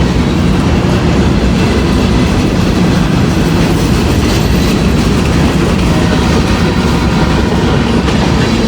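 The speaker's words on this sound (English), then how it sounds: "think it's going to be a mixed manifest" A mixed manifest freight train rolls past close by, a loud steady roar of wheels and cars with rhythmic clickety-clack running throughout without letting up.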